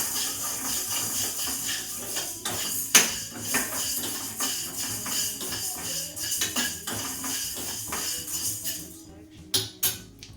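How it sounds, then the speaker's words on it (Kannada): Green gram (mung beans) being dry-fried in a pan, with rattling, scraping and clinking of a utensil stirring against the metal, irregular bursts over steady background noise. "ಫ್ರೈ ಆಗ್ತಾ ಇದೆ."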